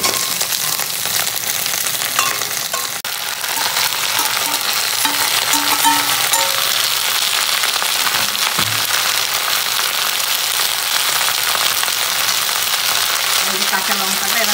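Fried mixed vegetables tipped into a hot pan for a vegetarian curry, giving a loud, continuous close sizzle with stirring scrapes throughout.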